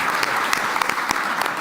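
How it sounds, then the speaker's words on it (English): Close, lively applause from a conference audience at a panel on energy transition and carbon markets. It is a brief burst of many hands clapping with a few sharper individual claps standing out. "Please join me in thanking with an applause"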